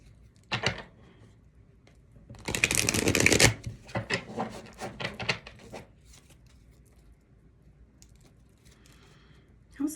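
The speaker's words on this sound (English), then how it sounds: "let me get some clarifying cards with the Love Oracle" Oracle cards are shuffled in a couple of crisp riffling bursts, close and clear, followed by softer card taps and handling noises.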